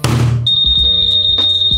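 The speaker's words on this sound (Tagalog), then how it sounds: "And meron pa rin po siya anti-theft alarm" Anti-theft alarm on a Honda ADV 350 scooter, a loud, steady high-pitched electronic tone sounding close by after a short opening burst, with faint thumps beneath it.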